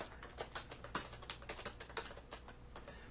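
Quick bursts of typing on a computer keyboard, crisp close clicks in an uneven rhythm with short pauses between keystroke runs, quiet and without speech.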